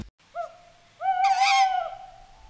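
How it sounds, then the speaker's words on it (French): An owl hoots twice in the video game Sacred 3, a short call followed by a longer, wavering one, clear against a quiet background. "ça c'est un bruit de chouette"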